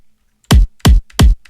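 Remade mid-tempo kick drum from a Serum-built drop: three hard, booming hits with deep low-end thump, evenly spaced and loud, with no other sounds.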